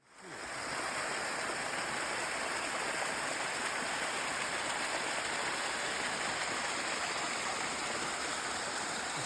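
A creek runs through a meadow near a campground, giving a steady, close rushing flow of water that holds even and unbroken from start to finish with no voices.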